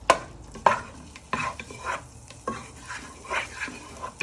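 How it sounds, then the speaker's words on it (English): A wooden spoon scrapes and taps against a frying pan in irregular strokes as butter melts, with a soft sizzle underneath, close and fairly quiet. "You want to stir it all down with your wooden spoon so it melts."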